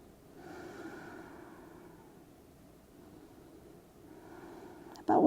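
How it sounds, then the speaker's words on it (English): Slow, deep breaths in and out during a relaxing stretch at the end of a workout, a soft airy rush rising and fading across the moment, close and quiet with no talking. "Breathe in, breathe out."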